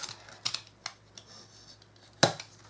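A blade cutting foam board by hand gives a few faint, sparse ticks and scrapes, then one sharper crisp snap near the end, close by and quiet, with no speech.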